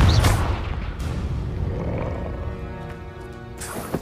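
A Confringo blasting spell goes off in Hogwarts Legacy, a loud low boom at the start that rolls into a rumbling tail with a faint tonal ring, and a second sharp burst near the end.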